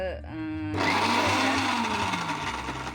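A mixer grinder whirs loudly as it starts up, its motor whining at high speed while grinding roasted chilli and coriander steadily.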